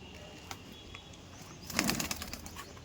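A brief burst of pigeon wing flapping rises suddenly close by as the bird is released, a quick flurry of beats after a few soft rustles.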